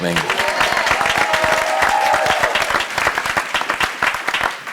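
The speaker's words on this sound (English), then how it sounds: "You can clap for that." A church congregation breaks into loud applause at a mayoral honoring ceremony, a dense burst of clapping with some cheering that holds strong, then thins into scattered claps near the end.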